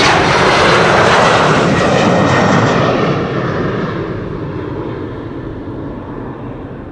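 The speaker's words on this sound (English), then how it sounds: "This is the Embraer 190 going to London City," An Embraer 190 jet takes off from Amsterdam Schiphol Airport bound for London City, its engines a loud, broad roar that gradually recedes and softens as the plane climbs away.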